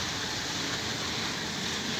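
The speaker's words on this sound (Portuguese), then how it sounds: "Agora, muita chuva mesmo." Heavy rain falling over Ribeira do Pombal, Brazil, a dense, constant hiss-like roar that stays loud and unbroken the whole time, with no voices.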